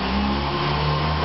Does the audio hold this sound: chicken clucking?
no